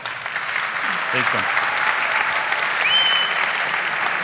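Audience applauding after a startup pitch at a startup presentation finale, a dense sustained wash of many hands clapping, loud and steady, with a voice speaking briefly over it.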